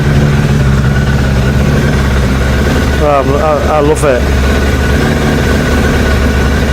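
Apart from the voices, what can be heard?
Suzuki Bandit motorcycle engine idling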